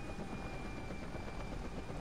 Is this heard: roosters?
no